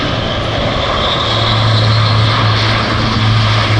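An Airbus A400M four-engine military transport roars through a flying display at Salon de Provence air base, its propeller turboprops giving a steady, loud, broadband drone with a low humming tone throughout.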